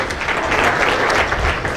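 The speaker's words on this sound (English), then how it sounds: "A big round of applause, ladies and gentlemen" At a golf tournament dinner event, an audience claps in a short, dense burst of steady applause, loud and close, with no other sound.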